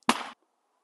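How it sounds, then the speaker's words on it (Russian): A single sharp shotgun report fired at a target, one loud close burst that cuts off abruptly and leaves near silence behind it. "Вот мы сейчас произвели с вами выстрел по мишени F."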